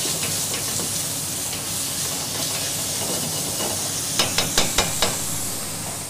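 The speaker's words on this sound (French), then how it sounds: "In a saucepan with butter, the chef softens the leeks and then puts in some diced pork belly" Leeks and diced pork belly soften in butter in a saucepan, a constant close hiss of gentle cooking with a quick run of five light utensil clicks near the end.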